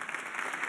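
Brief burst of applause from an audience, even and steady clapping without voices.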